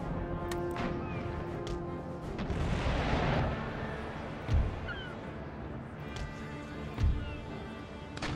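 Ship cannon fire during a naval battle in the Empire: Total War game, a rolling mass of booms swelling mid-clip, then two sharp separate thuds later over a constant battle din.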